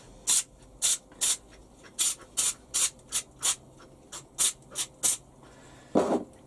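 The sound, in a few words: spraying lubricant onto Warco lathe chuck teeth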